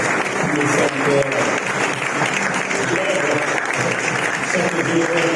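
A church congregation at a Sunday service applauds continuously, a dense, steady clapping from many hands, while a voice speaks over it throughout.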